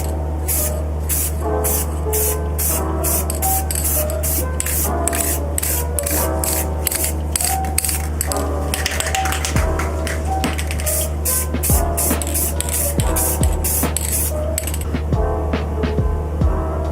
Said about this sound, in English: we're going to use Rust-Oleum clear gloss